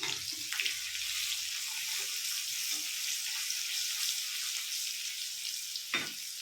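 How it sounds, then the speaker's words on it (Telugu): Mustard seeds, cumin, onions and turmeric fry in hot oil for an Andhra-style curry, giving a steady broadband sizzle throughout with a few soft stirring knocks and a brief louder crackle near the end; no talking. "ఆయిల్ హీట్ అయ్యాక కొద్దిగా ఆవాలు, కొద్దిగా జీలకర్ర, ఉల్లిపాయలు, కొద్దిగా పసుపు వేసుకుందామండి"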